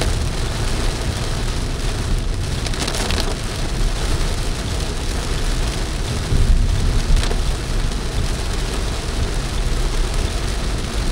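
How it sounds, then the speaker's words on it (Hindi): Heavy rain pours down steadily, a dense, continuous roar of drops drumming on surfaces close by, with a brief low rumble partway through. "बहुत तेज बारिश हो रही है।"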